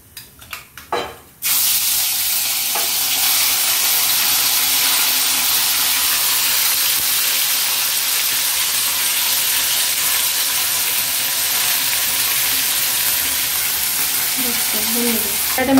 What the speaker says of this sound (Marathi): तर तेल आपलं गरम झालेलं आहे, त्यात मी थोडंसं जिरे टाकतेय.